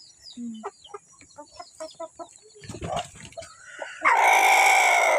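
A chicken clucks in short repeated bursts, followed by a louder squawk near the end, with some quiet talking in the background.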